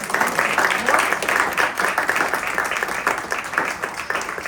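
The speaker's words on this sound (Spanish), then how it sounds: "un aplauso a todos nuestros panelistas." Audience applause for a panel of speakers at a tax forum, a steady wash of many hands clapping at close range, continuous and fairly loud throughout.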